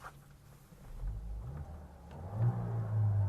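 A Skoda Slavia's engine revs up, its low boomy drone rising and swelling in waves, close by with no talking.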